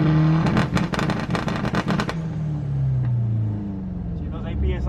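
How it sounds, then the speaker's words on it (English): A turbocharged stock Honda D15b with an eBay turbo kit pulls hard on a test drive, its loud engine note chopped by quick pulses early on, then settling into a smooth, falling drone close by. "we're gonna go for another test drive"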